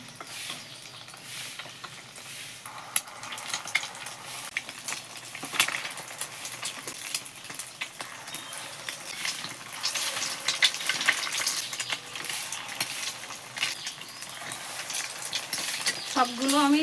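Egg-battered potato balls dropping into hot oil in a wok, a steady crackling sizzle that builds louder toward the end, with faint utensil clinks and no talk.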